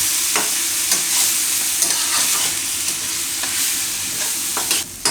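Methi leaves, peas and paneer being stirred in a frying pan, with steady scraping strokes over a constant sizzle and a few sharper utensil knocks, no voices.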